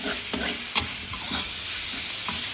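Pork sizzles with store-bought red curry paste in a pan, a constant hiss marked by a few sharp spatula scrapes and stirs, close up and with no speech.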